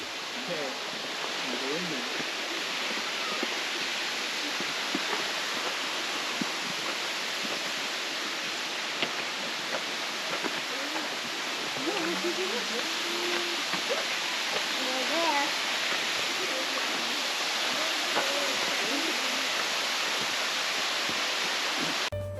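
Steady broadband rushing of Marymere Falls, fed by Falls Creek, fills the whole stretch, a constant wash of falling water with faint scattered sounds on top.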